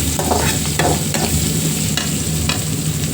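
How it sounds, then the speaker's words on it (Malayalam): Salted onions fry in a pan while being stirred, a loud, continuous close sizzle broken by repeated scraping strokes of the spatula. "ഇത് അങ്ങോട്ട് നമുക്ക് വറുത്ത് പോരാം"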